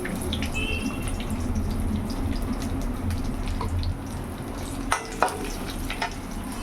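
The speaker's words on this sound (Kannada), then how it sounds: "ಒಣಮೆಣಸಿನ್ಕಾಯಿ ಒಂದಿಷ್ಟು, ಕರಿಬೇವು. ಹಿಂಗೆ ಹಾಕ್ತೇನೆ." Dried red chillies and curry leaves hitting hot oil, with roasted peanuts already in the pan, sizzle and fry steadily at close range, with a few sharp crackles and pops near the end and no talking.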